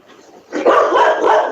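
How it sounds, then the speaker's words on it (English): A dog gives a close, loud, rough bark that rises from a quieter start and carries on for about a second in a ragged, drawn-out burst. "he's criticising my dog for barking"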